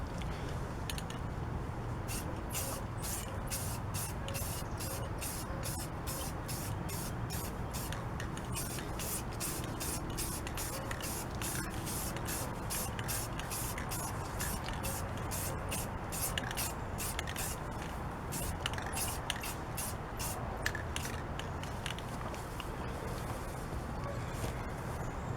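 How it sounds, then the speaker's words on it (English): A spray paint can lays a coat onto an aluminum wheel rim in a continuous close hiss, broken by rhythmic short pauses and bursts as the can sweeps back and forth in even strokes. "That was the first light coat. I'll put probably 2 more on and then a final heavy coat."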